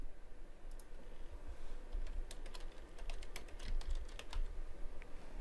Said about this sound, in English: Simply type in your student login